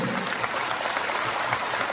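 Steady applause from a crowd at a Tipra political rally, dense continuous clapping with no clear gaps, moderately loud throughout a short stretch.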